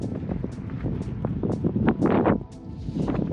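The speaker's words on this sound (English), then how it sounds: "it's freaking windy" Steady outdoor wind buffeting a microphone on a gusty day near Park City, Utah, a continuous broadband rumble with rustling surges, loudest in a gust toward the middle.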